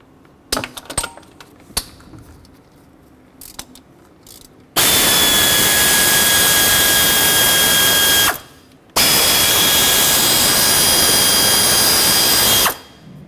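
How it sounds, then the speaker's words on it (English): Air ratchet loosening 10mm bolts on a 2009-2010 Ford F-150 with a 5.4L V8, two loud sustained high-pitched whirring bursts of about four seconds each, close up, after a few faint tool clicks. "I'll just put my air ratchet on it to make things a little faster"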